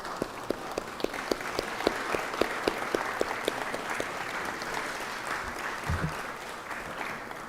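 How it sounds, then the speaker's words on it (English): Applause in a legislative chamber during a 2024 session day, a steady crowd of clapping hands with a few sharper individual claps standing out near the start, sustained at moderate level without talk. "Stand up and let's everybody give them applause and thank them for their efforts in the community."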